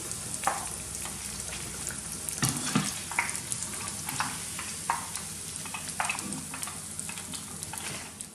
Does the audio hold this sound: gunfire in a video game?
no